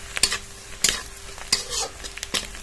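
Dried neem flowers frying with browned onions in a pan, a steady sizzle broken by sharp scraping stirs that come roughly every second, close and clear.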